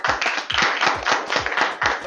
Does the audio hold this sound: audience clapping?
yes